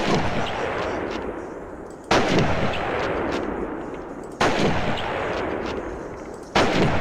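Call of Duty gunfire, three loud, sharp gunshot blasts spaced about two seconds apart, each with a long decaying tail, and no talk.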